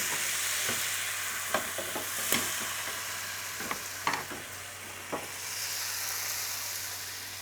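Banh xeo batter sizzling in a hot pan, a loud continuous hiss with occasional clicks and taps of the pan or utensil, close and alone, no speech.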